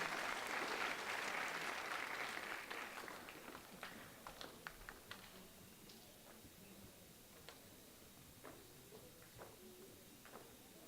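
An audience in a school concert hall applauds seventh-grade art students, loud clapping at first that quickly thins to scattered, fading claps with faint murmuring.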